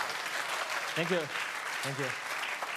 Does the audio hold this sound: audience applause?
yes